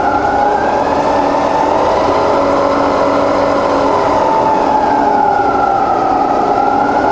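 A Bridgeport milling machine spindle, fully rebuilt, runs in reverse with a steady loud mechanical whine and hum that drifts slightly in pitch, continuous and close, with no speech.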